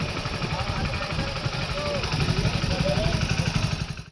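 A group of five motorbikes rolls into the crowded Vachhraj Dada temple fair at Chaitri Poonam, their engines droning and putting close by under steady talk.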